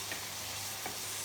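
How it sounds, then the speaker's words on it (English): Vegetables sauté in masala, giving a steady, faint sizzle with a couple of soft stirring scrapes over one short moment, with no voices. "you add vegetables to it and you saute it in the masala for about 5 minutes"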